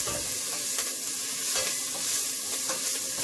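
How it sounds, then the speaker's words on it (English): Fish frying gently in a small amount of olive oil over a low flame, a steady close crackling sizzle with faint stirring sounds throughout. "So we're gonna just fry it a little."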